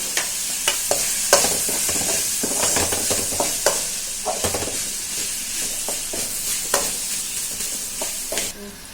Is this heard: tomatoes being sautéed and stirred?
yes